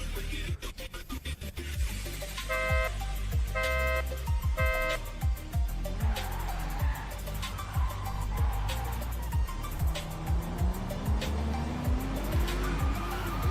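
A Toyota Supra in a video game launches from the starting line and drifts with loud, sustained tire squeal and a revving engine, and the squeal sweeps in pitch as the car slides. Rhythmic gear-shift and rev bursts run underneath.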